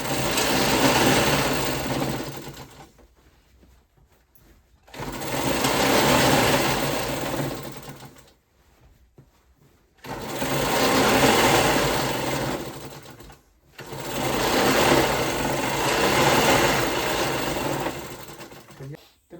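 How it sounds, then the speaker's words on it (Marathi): A sewing machine runs stitching layers of a handmade baby quilt, in four long loud bursts separated by short pauses, with someone talking at times. "तर पहा, याप्रमाणे आपण असे टीप मारत"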